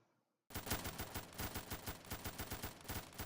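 An MP40 submachine gun fires a rapid automatic burst in a Minecraft Factions game with guns, sharp evenly spaced shots loud and close after a brief silence.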